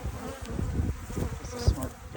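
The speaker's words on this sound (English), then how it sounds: "I'm feeding the bees" Honeybees buzz in an opened polystyrene hive, a close, continuous droning hum with fluctuating intensity.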